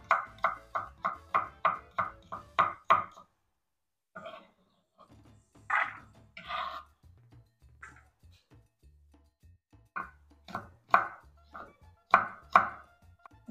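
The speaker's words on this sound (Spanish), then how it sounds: "Continúo picando la zanahoria en cuadritos." Quick, even knife chops on a cutting board tap in a steady rhythm, pause, then come back in irregular bursts, as a carrot is diced into cubes.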